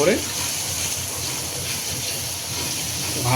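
Chicken sautéing in oil with ginger and garlic paste, cumin powder added, gives off a steady, close sizzling hiss that holds at an even level from start to finish.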